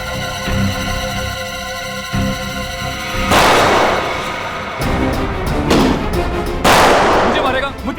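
Several loud, sharp gunshot blasts ring out in succession in a Hindi TV crime drama scene, each with a lingering echo over a tense background score.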